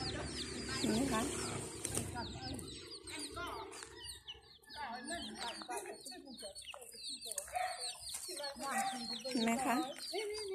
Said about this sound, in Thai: มีทั้งไก่ตัวผู้นะคะแล้วก็ไก่ตัวเมีย